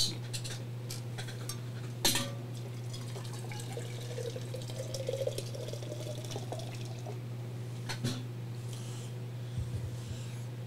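Water is poured quickly onto coffee grounds, a soft, faint trickling and splashing with a few light clinks of utensils over a steady low electrical hum.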